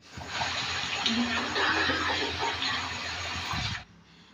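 Dishes are washed under running water in a home kitchen while roti is being made. A steady, close rush of tap water runs for several seconds, then cuts off abruptly.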